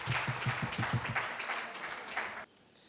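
Audience applause at a talk event welcoming US broadcaster Raheela Firdous onto the stage, a steady wash of many hands clapping that runs loud for about two and a half seconds, then drops off abruptly.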